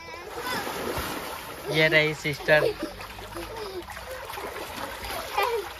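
People bathing inside a freshly cleaned and refilled water tank make steady splashing and sloshing, with a louder burst of splashes midway, while voices talk over it throughout.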